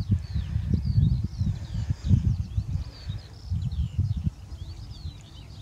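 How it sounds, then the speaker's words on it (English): Birds sing in the countryside on a morning walk along a lane, with thin high chirps and warbles at a distance over close rustling and low thumping footsteps. "just listen to the birds."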